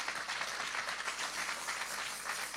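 A church congregation at a French-language service claps and applauds together, a steady, fairly faint patter of many hands that holds for a few seconds.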